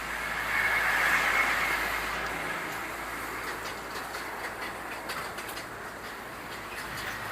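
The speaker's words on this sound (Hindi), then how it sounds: "ट्रेन जा रही थी भाई, ट्रेन," A train passes at a moderate distance, a broad rushing rumble that swells early on and then eases into a steady rolling noise, with faint clicks over it and no talk.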